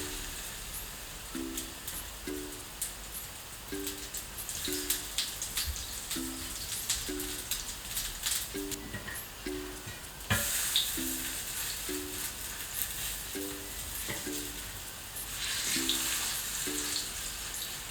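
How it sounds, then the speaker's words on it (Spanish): Chickpea burgers fry in a little oil in a pan with a steady close sizzle and scattered crackles and pops, while soft, repeating background music plays underneath. "Y ahora en un poquitín de aceite las vamos friendo"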